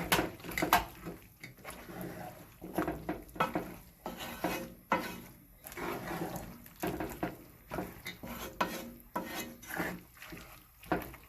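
Saltfish is stirred in water in a bowl for a cook-up rice, with continuous scraping and swishing strokes in an irregular rhythm, close and fairly loud, with no talk.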